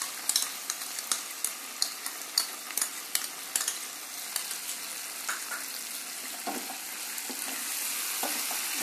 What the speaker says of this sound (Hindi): अच्छे से इसको मिक्स कर लेना है